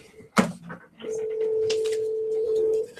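A telephone ringing on an outgoing call: a sharp click, then a single sustained electronic ring tone lasting nearly two seconds, with faint room noise around it.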